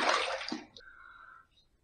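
Tap water runs briefly while a razor is rinsed after a shave, a close splashing burst that cuts off within a second, followed by a faint ringing tone.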